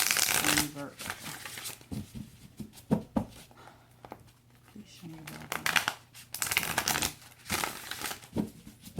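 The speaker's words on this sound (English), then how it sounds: "And so I'm going to start shuffling now." Tarot cards shuffled by hand in repeated quick riffling bursts with short pauses between, close and crisp, while someone talks in between.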